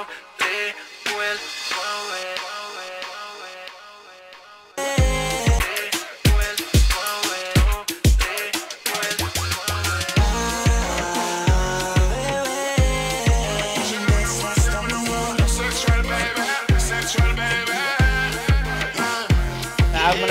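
Music plays through a delay effect, starting thin and quiet, then a full beat with echoing repeats trailing behind the hits, steady and loud throughout.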